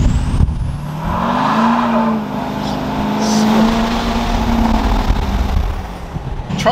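A big-turbo GMC Sierra 2500HD diesel pickup with a coilover conversion accelerates hard, its engine droning loud and close with rising and falling pitch over several seconds.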